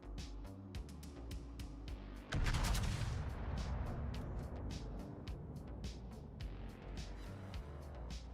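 Naval guns in World of Warships fire with a sudden heavy boom and a long rumbling tail, surrounded by a steady run of sharp ticking clicks.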